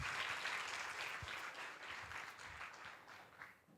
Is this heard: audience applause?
yes